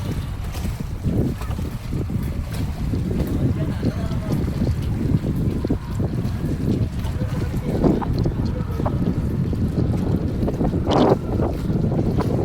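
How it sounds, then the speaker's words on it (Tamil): Strong, cool wind roaring and buffeting the microphone over the steady rumble of a boat on open sea near Nainativu, Sri Lanka, continuous and loud, with faint voices briefly. "குளிர்ந்த காற்று வீசுது, நல்லா இருக்கு."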